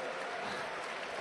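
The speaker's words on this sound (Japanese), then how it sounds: "これは大拍手です。" A packed crowd at the Nippon Budokan applauds during a judo match at a Tokyo national championship, a dense roaring wash of clapping that fills the brief moment.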